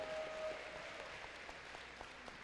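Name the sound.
audience cheering and applauding for the head referee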